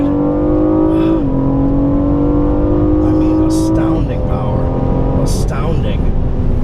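A 2017 BMW M760i V12 roars hard from a launch start, its engine note climbing steeply and dropping briefly at two gear shifts before rising again, loud and close throughout.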